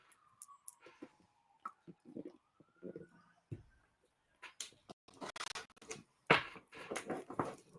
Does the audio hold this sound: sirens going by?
yes